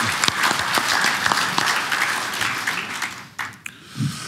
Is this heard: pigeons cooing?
no